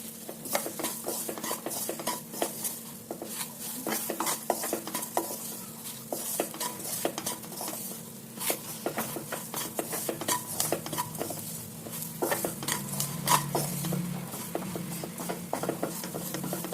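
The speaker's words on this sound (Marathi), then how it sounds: "बेसन भाजून झालं की त्यामध्ये उकडलेला बटाटा टाकावा आणि त्याला छान असं मिक्स करून घ्यावे" A spoon scrapes and stirs boiled potato into roasted gram flour in a pan for a kachori filling, steady repeated scraping strokes with light clinks, close and continuous with no voices.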